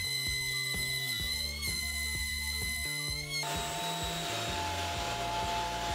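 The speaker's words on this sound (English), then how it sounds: "with a 3D router, I can make a rebate in the place where the saw will be" A wood router cuts a rebate groove in several passes, a loud steady high-pitched whine that shifts in pitch as the bit bites into the wood and changes load.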